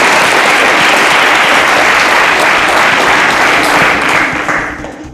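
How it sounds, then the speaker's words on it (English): A studio audience at a televised quiz show bursts into steady, dense applause for a contestant, loud and sustained throughout before tapering slightly at the end. "A round of applause for Gbodi"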